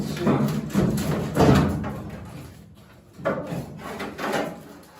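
Rear fender being pulled off a 1964 MGB during restoration, a series of dull metallic thuds and scraping clunks at close range, with a brief break in the middle and no talking.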